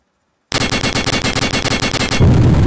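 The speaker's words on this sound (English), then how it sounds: "the auto rail cannon, which is just your fast shooting gun" Rapid automatic fire from a video game auto rail cannon rattles in a fast, even burst after a brief silence, ending in a heavier booming rumble.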